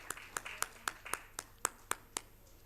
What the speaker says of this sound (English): Have a big round of applause for ma'am.